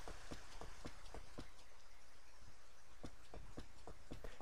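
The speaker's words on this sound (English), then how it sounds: "Oh, it's raining." Steady rain falls in the farming video game Rune Factory, a continuous hiss with scattered sharp droplet ticks throughout, heard alone without talk.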